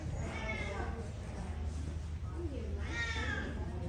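A ragdoll cat meows at a cat show, with two drawn-out cries early and late over a steady indoor hum and background chatter from the hall.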